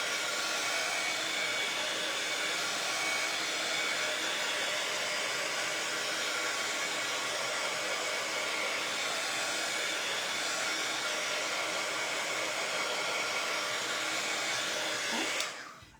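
Handheld dryer blowing steadily to dry paint on a bunny-in-egg craft kit, a loud, constant whooshing roar that runs unbroken until it clicks off right at the end, with no voices.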